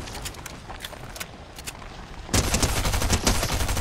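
Rapid automatic gunfire in Fortnite, first lighter bursts of shots, then a louder dense burst of fire continuing to the end.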